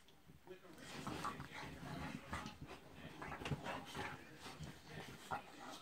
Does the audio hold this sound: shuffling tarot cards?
no